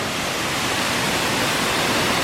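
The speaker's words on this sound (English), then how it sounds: "a beautiful waterfall" Steady, dense roar of a large, rarely visited waterfall in the Cloister's valley, continuous broadband rushing with no pauses or voices.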